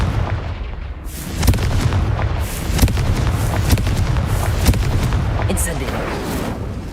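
Confringo spell blasts in Hogwarts Legacy, loud booming explosive bursts and crackling impacts rolling on continuously over a dense battle din.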